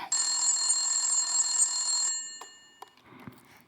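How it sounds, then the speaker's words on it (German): A telephone rings with a bright, continuous electronic trill for about two seconds, then stops, leaving a few faint clicks and handling noises. "da klingelt wohl ein Telefon."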